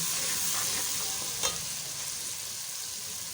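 Spices roasting in a pan for kadhi pakora, a steady close sizzle with one sharp spoon scrape against the pan while being stirred.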